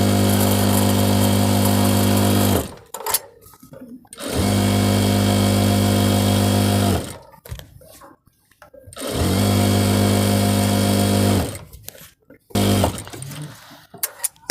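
Sewing machine stitching the top edge of a salwar runs in three long bursts of steady, loud, humming whir, each separated by brief pauses where a voice speaks.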